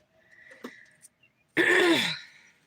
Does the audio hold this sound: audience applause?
no